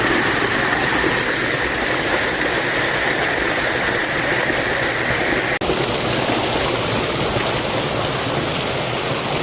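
Water rushes steadily through a small Kaplan water turbine, a loud, dense, unbroken churning roar with a single brief click partway through.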